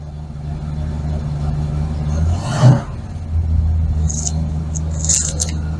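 A warm 5.0 V8 car engine with a Magnaflow exhaust idles in a deep, steady, close rumble, with a brief swell partway through and light clicks above.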